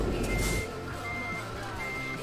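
A truck in Euro Truck Simulator 2 sounds its steady reversing beeper, a repeating electronic tone over a low diesel engine rumble, with a brief louder whoosh at the start.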